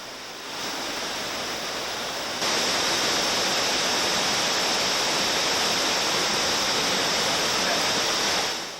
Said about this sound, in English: We could now hear the thunder of water up ahead. Could this be the lost waterfall?